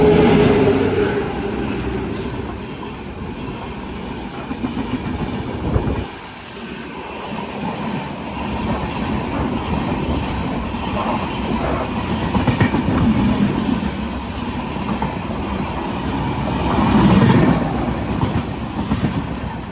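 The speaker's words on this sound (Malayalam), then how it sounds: "രത്നഗിരി റെയിൽവേ സ്റ്റേഷനിലേക്ക് ഇതാ നമ്മുടെ ട്രെയിൻ എത്തിക്കൊണ്ടിരിക്കുകയാണ്" Jamnagar–Tirunelveli Express pulling into Ratnagiri station, a steady loud rumble of rolling railcars with wheel clatter and occasional squeal, a brief dip midway, no voices.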